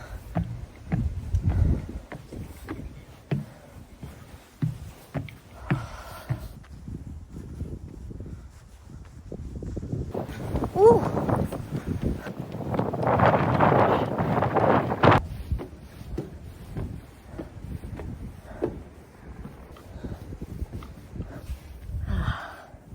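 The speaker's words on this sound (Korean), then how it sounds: "확실히 올라갈수록 바람이 세지네요." Strong wind on a snowy mountain trekking trail, gusts buffeting the microphone in uneven roaring surges that swell loudest midway, with footsteps and rustling underneath.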